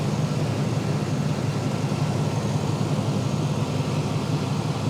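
A car engine idles under an open hood, a steady low rumble with a constant hum throughout, close and unbroken, with no talking over it.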